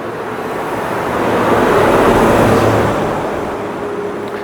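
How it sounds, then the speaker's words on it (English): Broad, steady rumble of road traffic from a nearby main road, swelling slightly as a vehicle passes in the middle and then easing, continuous with no talking. "A little more background noise with the traffic. There's a main road not far, just out there."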